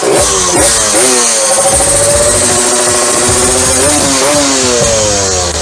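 A motor vehicle engine revs hard and launches, close and loud, its pitch climbing and dropping through repeated rev surges over several seconds with no talk.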